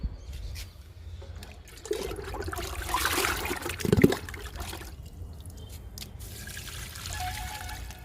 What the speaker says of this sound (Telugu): నేను ఈ మొక్కకి కిచెన్ వేస్ట్ లిక్విడే ఎక్కువ ఇస్తానండి